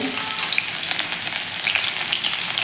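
Green chilies sizzle in hot oil in a kadhai over high flame, a steady close crackle and hiss running without pause, with faint stirring and no talk.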